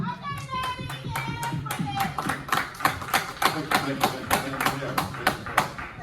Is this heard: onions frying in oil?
no